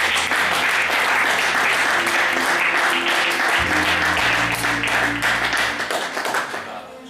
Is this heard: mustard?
no